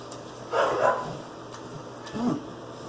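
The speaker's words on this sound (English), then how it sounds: "You heard that barking action out there?" A few dog barks from a distance, one short burst followed by a single bark a moment later, faint against a quiet background.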